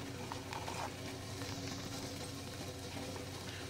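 Besan flour being added little by little to a pan on low gas and stirred for zunka, a soft steady sizzle with faint scraping of the spoon, quiet and continuous.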